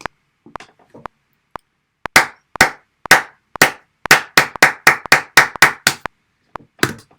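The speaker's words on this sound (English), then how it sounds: "I'm going to clap 4 crotchets and then 4 quavers" Hand claps in a counted rhythm: four evenly spaced claps followed by four faster claps at double speed, sharp and close, with a few soft taps before and one clap at the end.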